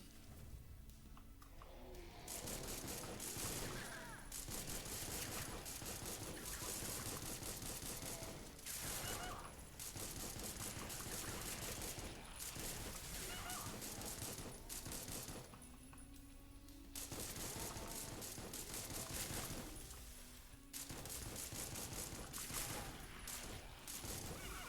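Rapid gunfire in the video game Supplice rattles out in several long bursts separated by short pauses, loud and dense.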